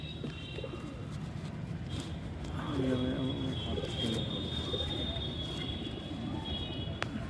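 Soft, low cooing from white Kagzi pigeons rises and falls within a steady, dense background murmur of birds, with a faint voice at moments.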